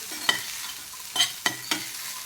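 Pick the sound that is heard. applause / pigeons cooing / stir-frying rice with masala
stir-frying rice with masala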